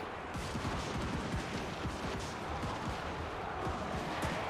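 Dense, continuous battlefield gunfire from units in Total War Warhammer 3, a rapid crackle of overlapping shots with low thuds throughout, steady and loud with no speech, as ranged troops pour fire into Crypt Ghouls.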